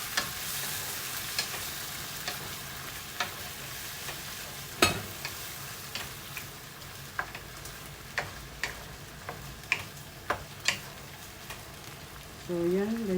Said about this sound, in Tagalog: Igisa lang natin.